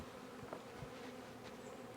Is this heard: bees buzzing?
yes